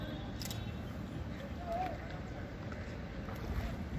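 A wooden shikara boat glides on a lake in Kashmir, with steady low water rumble and wind buffeting the microphone, plus faint splashes and a brief distant voice-like tone.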